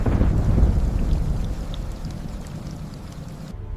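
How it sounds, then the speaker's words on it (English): Heavy rain pours down in a thunderstorm, a loud, dense wash of rainfall with a deep rolling rumble of thunder that swells early and then eases, with no voices. "a strong El Niño means one thing: Rain, and enormous amounts of it."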